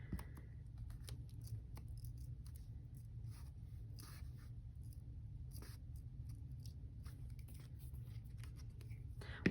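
Scissors snip at the tail of a paper cut-out fish for a craft journal, with soft, intermittent crisp cuts and paper rustling close by, under a quiet, low background hum.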